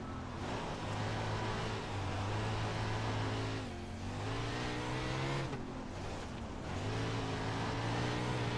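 A Wing Sprint dirt car in iRacing roars continuously and loudly, its engine pitch rising and dipping as it revs and lifts through turns.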